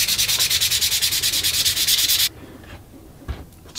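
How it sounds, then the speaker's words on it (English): Hand sanding of a barnwood picture frame to clear splinters and pencil marks: about fifteen quick, rhythmic rasping strokes, close and loud, then abruptly stopping, followed by a few faint knocks and quiet handling noises. "a little bit of sanding, just to remove some splinters and a few pencil marks."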